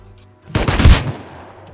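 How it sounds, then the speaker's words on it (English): Shotgun trap firing in the video game Rust, a single loud close blast with rapid crackling bursts that trail off into a short fading decay. "I got one shotgun trap."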